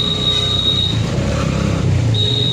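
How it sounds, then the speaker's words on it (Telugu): A highway traffic jam near the Kowkoor water tank: car engines idle and creep close by in a steady low rumble, with a thin high whine running through most of the short stretch. "ఏం ట్రాఫిక్ జామ్ బాయ్ ఇదంతా"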